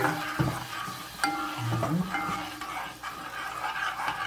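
Food sizzles in a pot while a utensil scrapes and stirs, with clanks and bubbling throughout.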